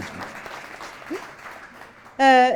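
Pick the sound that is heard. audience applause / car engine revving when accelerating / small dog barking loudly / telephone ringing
audience applause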